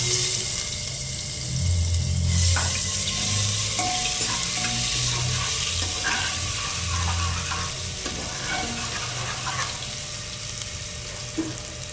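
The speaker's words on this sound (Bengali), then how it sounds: "এবার এটা হালকা করে নেড়ে নিয়ে আমরা এর মধ্যে দেব থেতো করে রাখা আদা রসুনটা" Crushed ginger and garlic stirred and frying in a pan for a chicken curry, a continuous close sizzle with scraping and clinking of the spoon, broad and steady, with no one talking.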